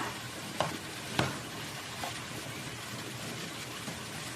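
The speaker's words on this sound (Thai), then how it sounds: "ส่วนที่เหลือจ้ะเราก็เอามาเป็นเกี๊ยวทอดจ้ะ" Wontons fry in hot oil with a continuous close sizzling hiss, broken by a couple of sharp pops and crackles early on, with no speech.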